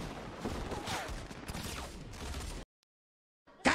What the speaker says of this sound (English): I love this shotgun, bro